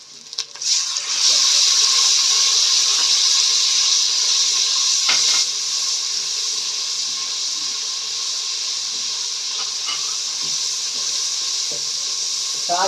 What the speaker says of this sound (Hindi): मैं इसके अंदर डालूंगी हल्का सा पानी।